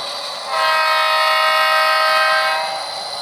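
A model maintenance-of-way train on a layout sounds its horn once, a loud, steady, multi-tone blast lasting about two seconds, starting and ending cleanly.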